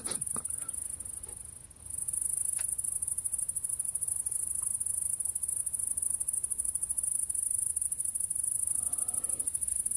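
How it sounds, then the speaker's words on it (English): Grasshopper or locust chirping during a sound healing session: a continuous, high-pitched shrill buzz that runs steadily throughout, loud and unbroken apart from a brief dip near the start, with faint soft clicks underneath. "And then we got grasshopper."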